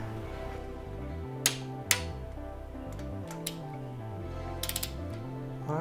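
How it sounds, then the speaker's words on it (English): Torque wrench being adjusted down to 18 foot-pounds during an AC compressor replacement, giving a series of close, quiet mechanical clicks and ratcheting ticks with a few sharper snaps, no talk. "I don't know if my torque wrench goes down to 18 foot-pounds"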